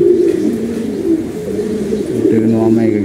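Pigeons coo in a loft, low murmuring calls running steadily beneath a person talking nearby, with a fuller burst of cooing near the end.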